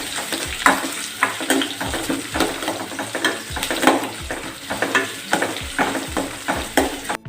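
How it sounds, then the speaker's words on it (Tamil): Chopped large onions for a chicken gravy fry in oil with a constant sizzle, broken by rhythmic scraping and stirring strokes of a ladle against the pan, no talking. "இப்போ பார்த்திங்கன்னா வெங்காயம் நல்லா எண்ணெயில் வணங்கிடுச்சுங்க."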